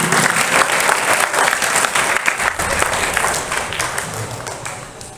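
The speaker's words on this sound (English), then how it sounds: "give them a very loud round of applause" A school assembly audience gives a loud, steady round of applause, many hands clapping densely and continuously, fairly close.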